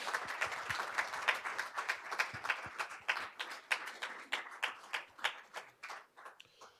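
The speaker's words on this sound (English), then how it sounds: "please give yourselves a huge round of applause" An audience at a board of education oath of office ceremony applauds together, a dense run of steady clapping that thins out into separate, distinct claps toward the end.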